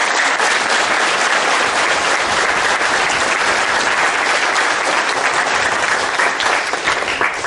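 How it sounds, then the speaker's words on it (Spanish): A large crowd gives loud, dense, sustained applause in honour of Marist brother Jorgito Carrasco Carranco y Pérez Salazar, holding steady for the whole stretch. "para quien pida un aplauso"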